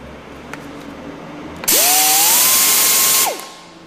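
A rivet shaver tool whirs up to a steady high-pitched spin for about a second and a half as it shaves down a rivet, loud and close, then winds down.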